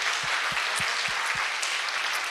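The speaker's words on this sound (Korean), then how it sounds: "서로를 향해서 박수 한번 해주시면 감사하겠습니다" Audience at a church happiness-recharge concert clapping for one another, a steady dense wash of applause with low thumps from nearby hands, sustained without talk.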